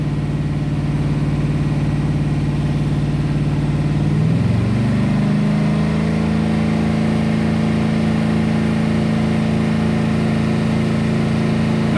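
A freshly built 327 small-block Chevy, a 350 block with a 307 crankshaft, runs steadily during camshaft break-in, its close, loud engine note shifting in pitch around the four-second mark before settling into an even drone.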